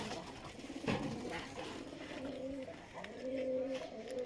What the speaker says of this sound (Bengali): এই যে আমার পায়রাগুলো দেখতে পাচ্ছ ভিতরে আছে, ওই দেখো।